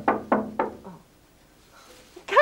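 Three sharp knocks on a door ring out in quick, even rhythm, followed by a softer fourth and a stretch of quiet before a voice begins.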